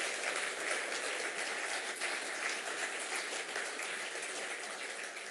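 An audience applauds in a steady, dense wash of clapping, moderately distant and continuous throughout with no voices.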